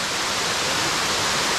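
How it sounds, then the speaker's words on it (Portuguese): Waterfall at Cachoeira do Bicho in Pirassununga, a steady, dense roar of falling water that holds constant and fairly loud throughout, with no voices. "Olha aí, Cachoeira do Bicho."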